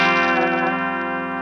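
An electric guitar played through a Peavey Triple XXX amp begins to break into distortion, a single sustained chord ringing loud and close and slowly decaying, with no talking.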